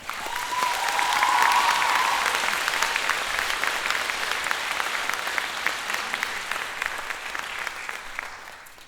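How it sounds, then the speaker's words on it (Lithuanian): An audience at a Lithuanian gymnasium's hundred-days-before-graduation celebration applauds in a school hall, sustained dense clapping that swells early and then holds steady, with a faint whistle near the start. "mes 11-okai tikime, kad jūs nusipelnėte pačių didžiausių aplodismentų"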